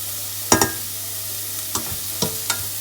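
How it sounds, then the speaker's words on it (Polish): Carrots and onion fry in butter in a pan, a low steady sizzle running throughout with a few sharp clinks and scrapes of stirring near the start and end, close by with no voices. "Zaczynam smażenie od marchewki, bo jest najtwardsza."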